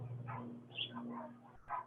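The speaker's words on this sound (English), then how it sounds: "you hear my neighbor's dogs barking" A neighbor's dogs bark faintly in the distance, a few scattered yaps over a low steady hum.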